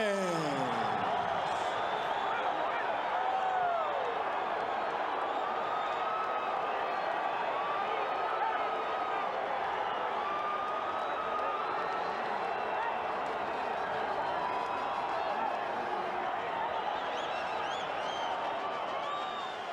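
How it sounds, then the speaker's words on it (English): A boxing arena crowd reacts to a split-decision verdict, a continuous dense roar of voices, cheers and applause at moderate distance that swells and holds for the whole stretch. "So the crowd reacts to the split decision in favor of Erik Morales."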